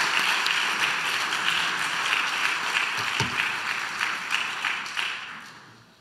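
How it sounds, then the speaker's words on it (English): Dense, even applause from an audience at a Reform Judaism gathering on social justice and interfaith partnerships fills the room steadily before tapering off near the end. "Please join in applause and welcoming these two wonderful members of our community to this."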